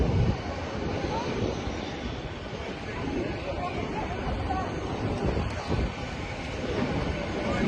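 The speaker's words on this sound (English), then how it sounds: "So we are on a plane" A continuous loud drone of airplane engines heard from inside the cabin, with a faint murmur of voices underneath.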